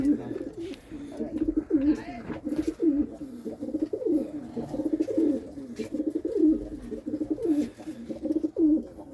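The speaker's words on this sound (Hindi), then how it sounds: "ये है जी कबूतर" Racing pigeons coo in a steady, repeating series of low, throaty warbles, close and continuous, with faint voices now and then in the background, in Delhi.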